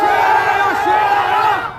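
Loud massed voices of a crowd at a political public meeting roar back a chanted slogan response, a dense, sustained chorus with individual shouts rising through it, fading slightly at the close.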